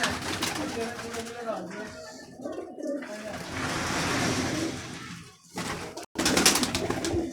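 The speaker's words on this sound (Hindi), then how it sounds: "लो जी इन कबूतरों में से निकाले हैं कबूतर" Pigeons coo softly amid rustling and background noise, with someone talking nearby over the birds.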